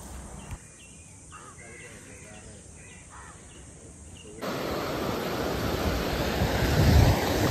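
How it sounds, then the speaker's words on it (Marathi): Morning surf rolls onto a beach in North Goa, a wide steady wash of waves that swells louder partway through, with wind and faint birds, starting quieter and distant. "सकाळी आम्ही आलो आहे बीचवर"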